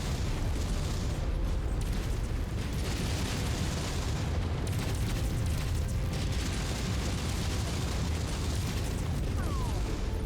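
Dense, sustained roar of a giant mech blowing apart as it is destroyed in MechWarrior 5, a continuous loud wall of explosive rumble and crackling debris lasting throughout.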